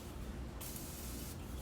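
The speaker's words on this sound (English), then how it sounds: "I'm going to mist it with some setting spray." A makeup setting spray bottle sends a short burst of mist onto a makeup brush, giving a crisp, close, soft hiss that starts abruptly, followed by a second brief spritz, with no talking.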